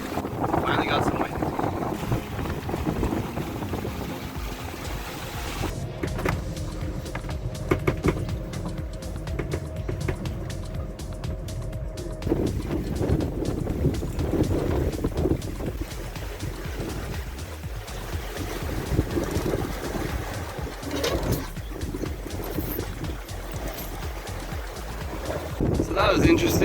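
Sailboat moving fast at seven to eight knots in strong wind near squalls, with constant wind roar buffeting the microphone and a rushing wash of water along the hull, loud and steady throughout.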